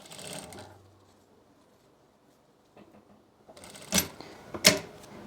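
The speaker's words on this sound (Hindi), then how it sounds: "पूरे गले के ऊपर हमें सिलाई लगा लेनी है" A sewing machine stitches a stand collar around the neckline of a short kurti, running in brief bursts with a couple of sharp mechanical clacks near the end, no talking.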